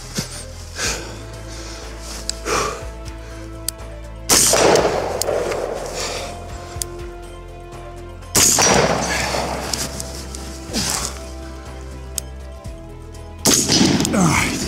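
Rifle gunfire on an infantry fitness course, a few sharp reports spaced several seconds apart at mid distance, each ringing out with a long echoing tail over a quiet outdoor background.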